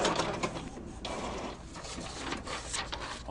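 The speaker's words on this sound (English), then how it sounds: "now we're going to test our printer just to see if it's going to work right" An Epson printer prints a test page, giving a steady mechanical whirring and clattering of gears and rollers that runs unbroken for a few seconds, close by and with no voices over it.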